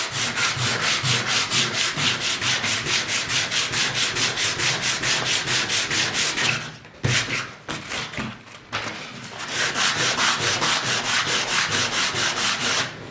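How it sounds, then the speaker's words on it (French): Abrasive paper rubs by hand along the grain of wooden boards in rapid, even back-and-forth strokes, loud and close, with a short pause midway before the rhythmic sanding resumes. "vous prenez l'abrasif de cette manière et vous poncez dans le sens des fibres de bois, donc dans la longueur des fibres de bois"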